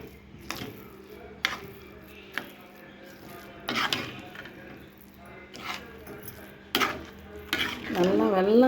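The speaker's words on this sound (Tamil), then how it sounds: "வெல்லத்தை கொட்டி கிளறிடணும்" Jaggery being stirred into thiruvathirai kali in a pot gives repeated scraping strokes and clanks of a spoon against the vessel at an uneven pace, with a soft frying hiss underneath and livelier stirring toward the end.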